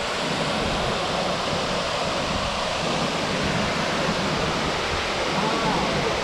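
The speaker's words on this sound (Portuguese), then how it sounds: "Cachoeira dos macacos aí!" Waterfall at Cachoeira dos Macacos, a steady, dense roar of falling water that fills the whole clip without pause, loud and close with no break in the rushing wash.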